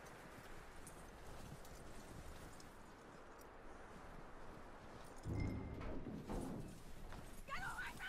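Horse hooves clip-clop at a steady walk in Red Dead Redemption 2, soft and mid-distance under wind and ambient noise, growing louder and heavier partway through.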